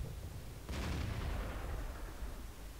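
One tank gun shot in World of Tanks booms once, fairly faint, with a broad blast that fades slowly into a low rumbling tail over steady background noise.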